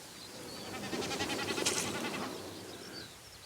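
A common snipe drums in its mating display flight overhead, a bleating, vibrating hum that swells and fades over a few seconds, faint and distant against an open outdoor background.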